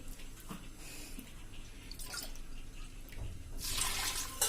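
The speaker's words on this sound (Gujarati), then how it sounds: "1 કપ જેટલું આપણે પાણી નાખી દેશું" Water poured into a pot of Gujarati seven-grain khichdo, in a home kitchen before pressure cooking, making a steady splashing wash that swells louder near the end, heard alone.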